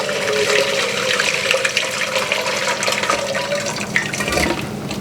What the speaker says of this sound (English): I am going to pour this right back in here.